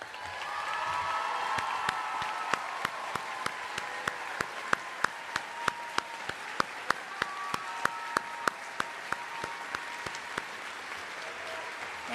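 Audience at the Ann Richards School for Young Women Leaders 2022 graduation applauds the standing faculty, a steady wash of clapping from a large crowd with sharp individual claps standing out, faint murmur underneath.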